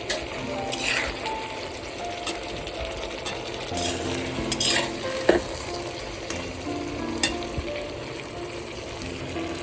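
Hot water poured little by little into a curry cooking in a wok, with splashes and sizzling bursts among clinks of a utensil, close and fairly loud.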